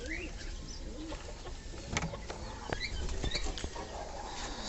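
Breeder pigeons cooing softly in a loft, with repeated low throaty coos, faint wing and foot shuffles, and a steady background hiss.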